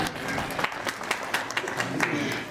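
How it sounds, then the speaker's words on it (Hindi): A crowd at a Hindi book launch ceremony applauds a guest's welcome, giving a dense, moderately loud clapping texture with distinct individual claps poking through, while faint voices murmur underneath. "एक बार जोरदार तालियों से कुमारी जी का स्वागत।"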